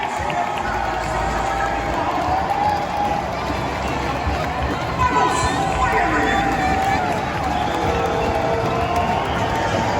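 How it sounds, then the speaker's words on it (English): Stadium crowd after an Inter Miami soccer win, a steady roar of cheering and crowd hubbub filling the whole stretch, broad and distant, with occasional louder swells. "Listen to the crowd."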